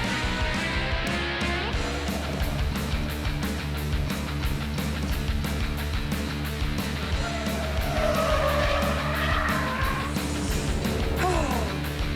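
A Volvo saloon lapping a race track at speed, its engine roaring loud and steady throughout, with tyres squealing and skidding through the corners.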